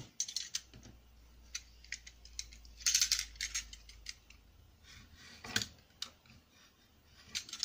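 A small handheld tool snips paper for a mini album: scattered crisp cuts and clicks, with one louder crunching stretch, close up against a faint background hum.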